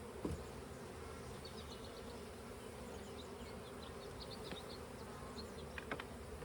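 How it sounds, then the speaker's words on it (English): Honey bees hum in a soft, continuous drone close by, with a few brief knocks and clicks over the quiet buzzing. "We remove the bees from the feeder."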